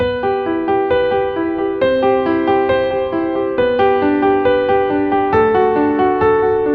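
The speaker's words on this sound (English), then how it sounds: "Impress your friends with this very easy piano melody." Piano playing a flowing broken-chord melody, notes rippling down and back up over sustained bass, steady and moderately loud with no talking.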